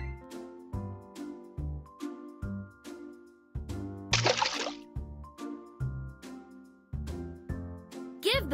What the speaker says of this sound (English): Give the pup a bubble bath before they go to bed.